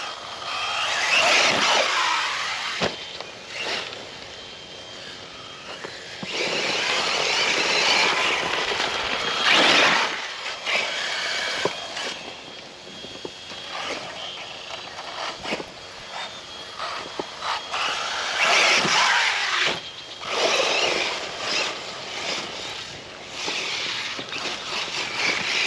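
An Arrma Mojave BLX RC truck on 3S power, with a 16-tooth pinion and a locked center differential, drives up for a jump. Its motor whines in repeated rising bursts of throttle, loud and near, then drops away between runs.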